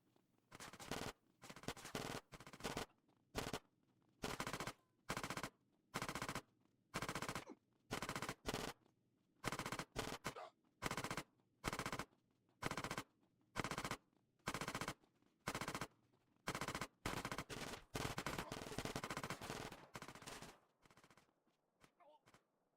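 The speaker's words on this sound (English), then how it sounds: "The end of this mission is impossible to complete without using the machine gun on the bike section of this mission" Machine gun fire from a bike in GTA: San Andreas: repeated long bursts of rapid automatic gunfire separated by short pauses, loud and close, continuing for over twenty seconds.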